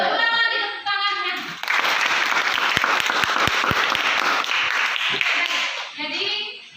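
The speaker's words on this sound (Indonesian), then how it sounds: "Ulang lagi tepuk tangannya." Classroom students clapping for a group, a dense burst of many hands that swells after a teacher's voice, with a few sharp individual claps standing out before the applause fades back into talk.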